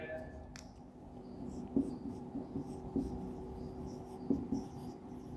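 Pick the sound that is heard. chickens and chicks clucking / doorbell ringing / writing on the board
writing on the board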